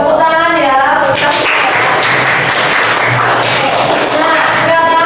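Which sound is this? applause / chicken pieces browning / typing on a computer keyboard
applause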